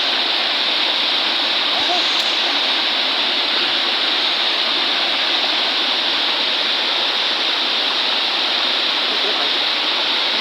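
Water rushes and gushes steadily from a water line under repair in a village barangay, a dense, continuous splashing flow that stays loud and unbroken throughout.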